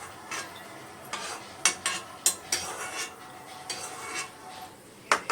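Cashew nuts fried in ghee are scooped with a metal spoon into a bowl, giving a series of soft scraping and clinking taps at an uneven pace, close and fairly quiet.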